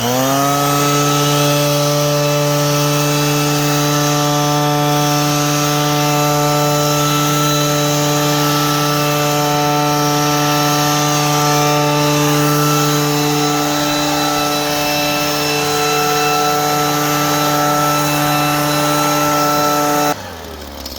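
A Husqvarna multi-purpose leaf blower runs at a steady, loud, high-revving drone for about twenty seconds, then its pitch drops suddenly near the end.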